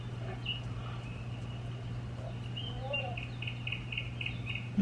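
A toddler's sound machine plays bird chirps, small faint tweets and a quick run of repeated calls sitting over a steady low electrical hum in a quiet room.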